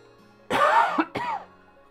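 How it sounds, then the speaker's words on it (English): A person coughs twice in quick succession, a long harsh hacking burst followed by a shorter one, close and loud against a quiet background. "This cough, this throat, just the whole face is in a pain."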